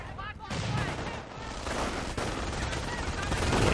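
A grenade blast and gunfire in a multiplayer war video game match fill the clip, with loud, dense crackling bursts and booms layered under excited commentary voices.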